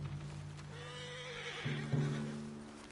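A horse in Red Dead Redemption 2 spooks and whinnies, a drawn-out neigh with wavering pitch, followed by a couple of short snorting bursts and hoof thuds, fairly close.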